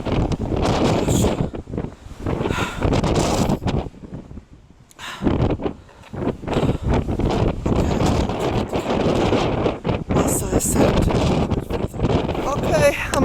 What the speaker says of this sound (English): It's too windy to stand up.